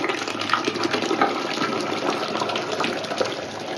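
Water is poured slowly into a sago (sabudana) mixture for papad, a continuous close gushing and trickling pour that holds steady for several seconds with no talking.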